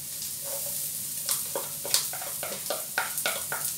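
Garlic fries in a pan for old-style chicken adobo, a soft steady sizzle broken by a string of quick crackles and spatters, fairly quiet and with no talking.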